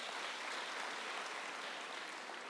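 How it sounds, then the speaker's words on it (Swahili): Government officials and guests at a Nairobi event for early childhood centres applaud the county assembly members, a soft, distant, even wash of clapping that holds steady throughout. "Please tupigie MCAs wetu makofi."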